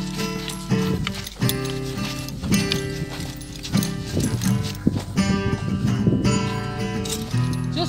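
A horse that resists being mounted shifts about and stamps while being trained to stand still, with irregular hoof clops and thuds close by and some tonal background noise.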